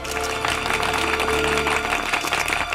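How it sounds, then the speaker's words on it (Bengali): Loud, dense applause from a crowd at a celebration, continuous clapping at an even level throughout with no voices over it. "আর একবার মিস্টার এন্ড মিসেস অর্জুন অগস্তির জন্য জোরে হাততালি।"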